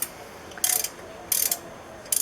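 A ratchet loosens nuts and bolts in the engine bay of a 1968 Fiat 850 Spider, giving three short, crisp clicking bursts at a steady pace over a quiet background.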